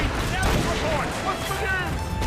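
Ship cannons and gunfire boom and rumble in a continuous naval battle in Assassin's Creed Rogue, layered under shouting crew voices.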